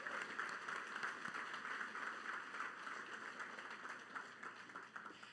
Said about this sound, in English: So can we give our MMF government a round of applause?